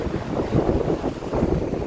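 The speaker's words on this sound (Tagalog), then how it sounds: "Sobrang lakas ng hangin." Strong wind in Ilocos buffets the microphone in a steady low roar, gusting louder and softer throughout with no pauses.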